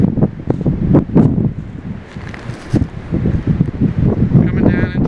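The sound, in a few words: strong wind while backpacking on a mountain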